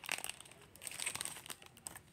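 Small plastic bags holding stickers are pulled open by hand, giving a close, quiet burst of irregular crinkling and rustling with a few sharp tearing crackles.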